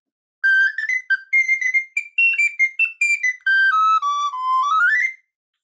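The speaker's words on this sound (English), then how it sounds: "of your descant is the tiny Garkline recorder" Tiny Garklein recorder, the smallest of the recorder family at about 15 centimetres, playing a short run of bright, piercing high notes that rise and fall in a quick close melody, alone without talk.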